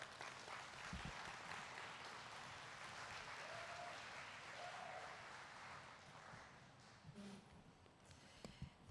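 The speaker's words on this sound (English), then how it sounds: "let's give her a round of applause as she comes up" An audience at a university athletic awards night applauds as a presenter comes up, with soft, steady, distant-sounding clapping that tapers near the end, broken by a few louder knocks and thumps.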